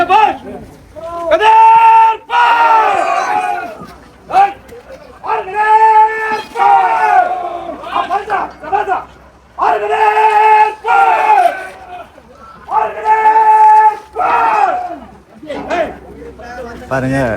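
A group of people shouts and yells in loud repeated bursts, each lasting a couple of seconds and separated by short pauses.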